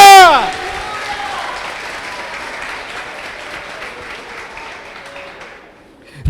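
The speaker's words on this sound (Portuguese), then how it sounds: "Pode aplaudir o Senhor, pode festejar." A church congregation applauds, a dense wash of clapping with cheering voices that swells at first and then continues steadily before fading, with some shouting mixed in.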